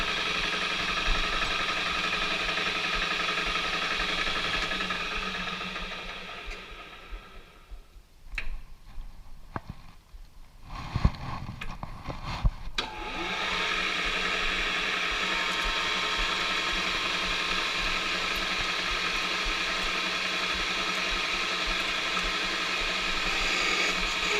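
A metal lathe takes a cleanup cut on a hammer handle, a steady mechanical hum with faint ticking that dips into a few seconds of clunks and rattles midway before settling back to the even drone.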